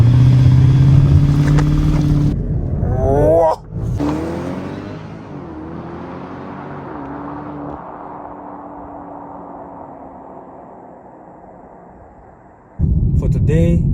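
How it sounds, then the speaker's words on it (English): A BMW X5 xDrive 50i M-Sport with a twin-turbo V8 launches hard from inside the cabin, its engine roar rising through gear changes and then easing into a steady cruising drone, with speech at the start and end. "Okay, so now we are in Sports Plus. Let's put the handbrake down, put it in drive. Okay, so launch mode."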